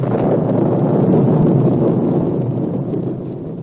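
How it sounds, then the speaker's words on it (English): A thunderstorm in a 1966 Thor audio drama sounds as a loud, steady, low rolling rumble with wind-like roar, sustained throughout and slowly fading slightly at the end, no voices present. "A moment ago, the sky was clear. Yet now there is a storm brewing."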